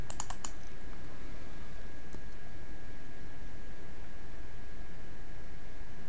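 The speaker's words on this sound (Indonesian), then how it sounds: "Saya klik ini." A computer mouse gives a few quick clicks near the start and one more a moment later, faint against a steady background hiss.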